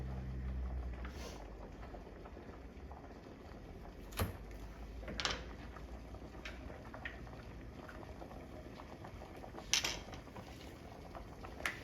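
Rice boiling in a pot on a home stove gives a steady low bubbling wash with a few soft knocks and clinks from the pot, fairly quiet and continuous, with no voices.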